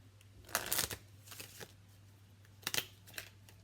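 Tarot cards are shuffled close by in two short bursts of quick riffling flutter separated by a pause, faint and alone.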